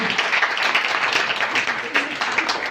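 Clapping from the audience at a women's poetry competition, light and uneven, with a voice talking over it.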